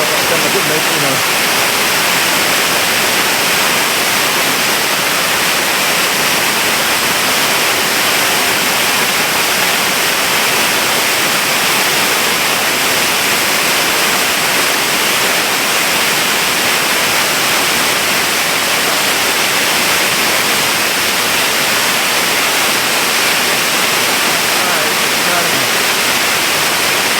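Levencorroch Burn waterfall on the Isle of Arran near Kildonan, a steady, dense rushing roar of falling water that stays loud and unbroken throughout with no voices.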